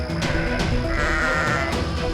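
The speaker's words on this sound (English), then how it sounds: "Suddenly, the sheep in the pen grew very frightened" Cartoon sheep in a pen bleating in fright, several overlapping anxious bleats repeating through a short, loud, busy passage.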